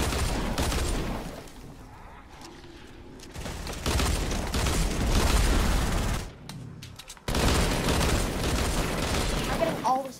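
Gunfire in Fortnite rattles in rapid continuous bursts across most of the stretch, loud and dense, with brief pauses between volleys.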